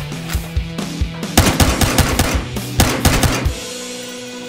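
Gunfire in the video game Battlefield Hardline: a few single shots give way to rapid, loud automatic bursts with sharp rhythmic cracks, then taper into a lingering reverberant tail.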